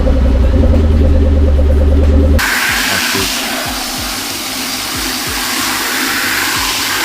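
A Mustang engine cranks with a loud starter whine, then fires and runs with a rough, pulsing idle close by, with no talking.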